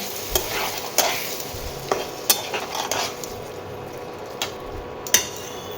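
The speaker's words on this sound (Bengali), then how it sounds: "তো এই দেখো আলু দিয়ে মশলাটা ভালো করে কষিয়ে নিচ্ছি।" Potatoes and tomatoes frying with spice paste in a pan, a steady close sizzle broken by repeated clinks and scrapes of a spoon stirring against metal.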